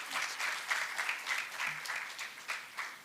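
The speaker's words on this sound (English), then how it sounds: "let's give Dr. Bhimrai Maitri another round of applause" Lecture audience at an educational leadership talk claps in a lively round, with individual claps clearly audible in uneven bursts that swell and fade slightly, uninterrupted by voices.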